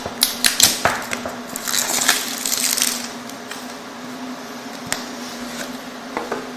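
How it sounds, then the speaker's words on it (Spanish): Scissors snip and cut through the packaging of an Ubuntu edition E4.5 smartphone box, giving a quick run of sharp, close cutting clicks in the first few seconds, then a couple of isolated snips over a quiet hum. "Metemos tijeras por aquí."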